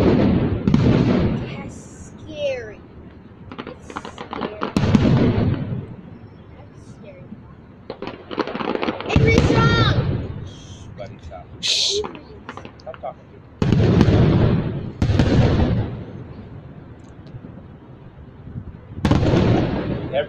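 Disneyland fireworks burst in a series of distant booms and crackles, with people talking and reacting close by between and over the explosions.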